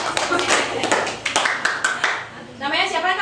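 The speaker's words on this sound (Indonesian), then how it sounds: "tepuk tangan dong buat kakaknya" Small group clapping at a village community presentation, several uneven bursts of close hand claps with pauses between, mixed with voices talking.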